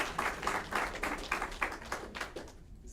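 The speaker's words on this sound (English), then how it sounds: "Give Tara another round of applause." An audience at a National Reconciliation Week community health event claps for a speaker in a short burst of applause that comes in uneven pulses, then fades out toward the end.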